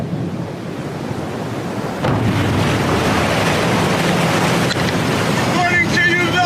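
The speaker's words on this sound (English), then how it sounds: "Reporting to you live from a storm on a boat." Loud wind buffeting and crashing waves during a storm at sea, heard from aboard a boat, a dense roar that swells after a couple of seconds with faint voices near the end.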